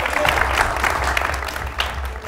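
A studio audience on a morning television show claps steadily as a young girl is called up, dense continuous applause with a low hum underneath.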